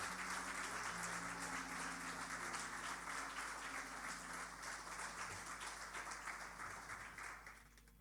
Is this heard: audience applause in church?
yes